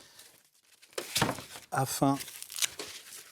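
Packaging for a rolling shutter crinkles and tears as it is unwrapped, with short rustling bursts between spoken words.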